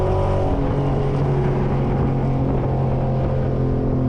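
A cammed widebody Scat Pack car's exhaust drones and burbles steadily as the vehicle slows, heard from inside with a constant low rumble and no talking.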